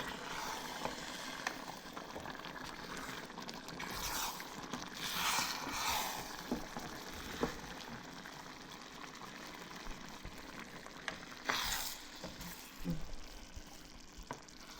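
A spoon stirs and turns Nigerian jollof rice in a pot, with soft scraping and sizzling bubbling sounds, occasional louder stirring strokes amid a low steady simmer and no speech.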